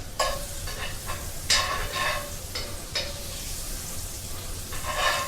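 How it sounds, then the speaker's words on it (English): Steak with chunks of fat sizzling steadily in a hot pan, a close crackling hiss broken by several brief scraping stirs, with no voices. "Add flavor to the steak while it cooks."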